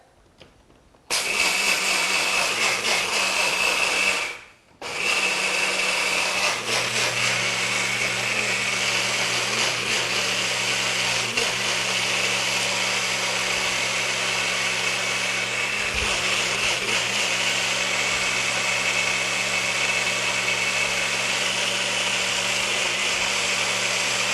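An electric blender grinds soaked perilla seeds for juice, a loud, steady high whir that starts abruptly, cuts out briefly for a moment, then runs on continuously and evenly to the end with no talking.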